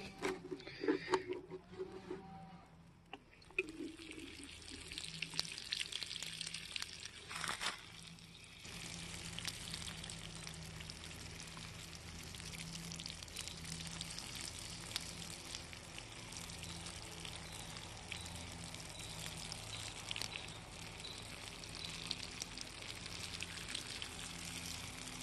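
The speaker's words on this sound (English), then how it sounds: "I basically just give them a pretty liberal watering of this." Water mixed with Epsom salt poured liberally over vegetable plants with yellowing leaves, a continuous soft splashing trickle at moderate distance that runs steadily throughout, with a few brief handling sounds near the start.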